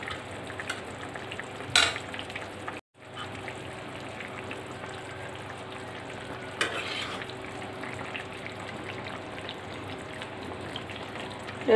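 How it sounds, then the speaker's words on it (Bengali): Mixed fish go into a pot of simmering mixed vegetable curry, giving a steady close sizzle and bubbling with a few louder stirring clatters and a brief pause partway through. "পানি দিয়ে এখন আমি মাছগুলো দিয়ে দেব।"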